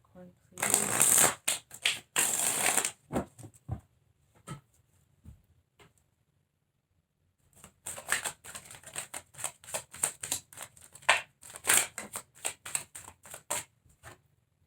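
Tarot cards being shuffled and drawn during a Capricorn reading: two bursts of rapid, crisp card riffling and slapping, loud and close, separated by a quiet pause of a couple of seconds.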